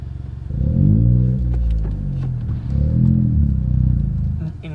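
A Ford Fiesta Zetec S Black Edition fitted with a Cobra exhaust idles at about 1000 RPM, giving a steady, close, low rumble that holds even with a slight swell midway, with no talk over it.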